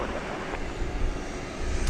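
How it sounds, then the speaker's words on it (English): A distant jet roar from an MD-11 airliner taking off at DFW Airport, a steady broadband rumble blended with wind noise on the microphone. "MD-11 takeoff."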